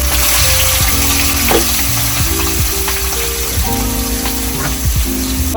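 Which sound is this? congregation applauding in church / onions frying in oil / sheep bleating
onions frying in oil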